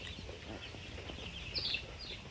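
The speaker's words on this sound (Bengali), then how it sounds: "আপনারা যে দেখতেছেন আমার পেছনে মুরগিগুলো" Young Sonali chickens, seventeen days old, cluck and chirp in a poultry shed, a steady low flock murmur with a few sharper calls rising near the end.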